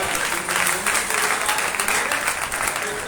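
A congregation at a Sunday preaching service claps together, a steady close burst of hand-clapping filling the moment, fairly loud and even.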